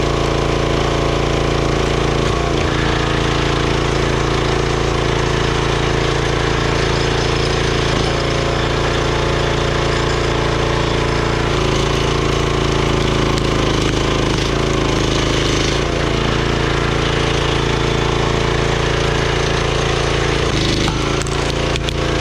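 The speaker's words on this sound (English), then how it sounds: "Now I'm going to show you the difference between splitting that locust, which is all stringy and super hard" A YARDMAX YU2566 25-ton log splitter works through firewood such as hard, stringy locust and softer ash. Its engine drones loud and steady throughout, with cracking and splintering from the wood now and then.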